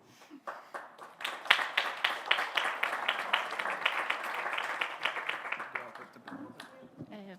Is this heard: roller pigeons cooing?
no